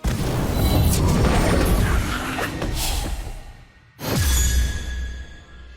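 Incendio fire spell cast in Harry Potter Magic Awakened, a loud roaring whoosh of flame that dies down, then a second sharp burst and flare, no talk.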